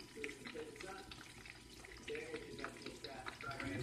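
Flour-coated chicken thighs fry in hot oil with a dense, faint crackle and sizzle, and a voice talks quietly over it.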